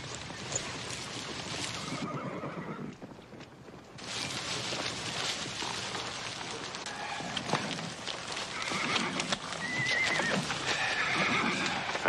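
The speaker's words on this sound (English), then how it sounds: "That's Frank Cole with his string of horses." A string of horses on a Western ranch whinnies and neighs while hooves clip-clop steadily, the sounds fairly close and continuous, dipping briefly before rising again.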